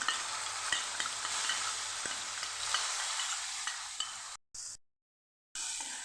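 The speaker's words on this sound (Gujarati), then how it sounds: "આપણે જે મસાલો તૈયાર કરેલો એને આપણે હવે ઉમેરીને સાતડી લેશું" Spice masala with asafoetida sautéing in a hot pan for a Bhavnagar-style evening snack, a steady close sizzle with stirring scrapes that cuts out briefly near the end, then resumes.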